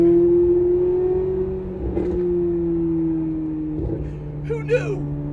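A Chevrolet C8 Corvette Z06 engine with aftermarket headers hums steadily at a low pitch, with a couple of brief crackling pops from the exhaust near the end, heard from inside the car.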